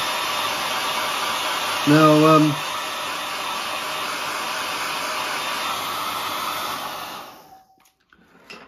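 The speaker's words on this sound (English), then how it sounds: "then we'll dry things off with the hairdryer" A hairdryer blows steadily to dry paint on a weathered lightsaber prop, its loud broadband whoosh running for about seven seconds before cutting off, with a brief voice heard near the start.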